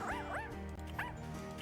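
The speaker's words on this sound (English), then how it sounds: "Dog playing on the computer." A playful cartoon dog in the hidden object game Find Matt's Cats gives a few quick yips and barks, with a low background hum underneath.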